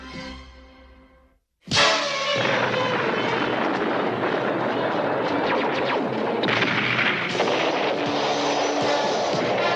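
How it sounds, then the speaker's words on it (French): Cartoon explosions from an animated G.I. Joe episode burst in after a brief hush, a loud blast followed by sustained roaring, crackling battle noise with further bursts. "Avec ces explosions qui éclatent un peu partout"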